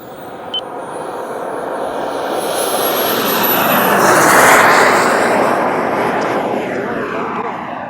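A twin-engine Krill Ares RC jet takes off, its turbine roar swelling loud as it passes close, then slowly fading, with a high thin whine above.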